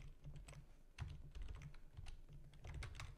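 Fingers tap steadily on a computer keyboard while writing a simple Python calculator program, with quick bursts of keystrokes and short pauses, close and quiet with no voices.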